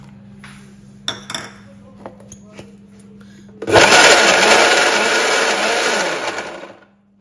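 Cashew nuts whirled in a kitchen blender: after some light clinks and taps, the motor kicks in loud and grinding for about three seconds, then winds down and stops.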